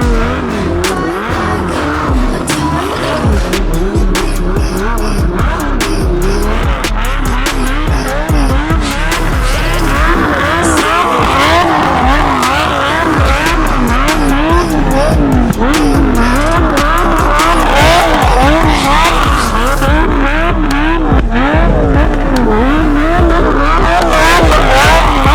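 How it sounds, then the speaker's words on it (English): Lamborghini on winter tires driving along a snowy road, its engine droning loud and continuous with rising and falling revs and tire noise throughout, no voices. "We're taking the Lambo."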